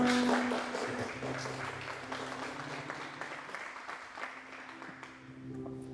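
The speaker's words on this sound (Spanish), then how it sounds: "Entonces recibamos con un aplauso." An audience applauds to welcome a couple of guests onto an interview show, a steady wash of clapping lasting throughout, with a low hum and faint tonal sound underneath.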